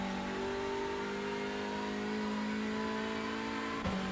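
A Hyundai Elantra TCR race car in iRacing at Summit Point sustains a loud, steady engine drone under acceleration, its tone rising slowly, followed by a brief shift or lift near the end.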